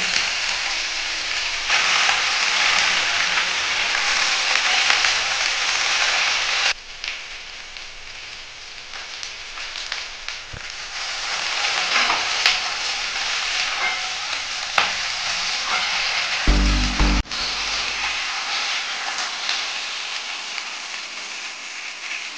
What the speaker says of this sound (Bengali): এখন এর মধ্যে এই বেগুনের সিমগুলো দিয়ে আরেকটু ভেজে নেব।